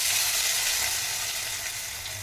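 Hot fried tempering poured into a rehu fish curry: a loud, broad hiss of sizzling oil that starts strong and eases slightly as it settles, with no talking.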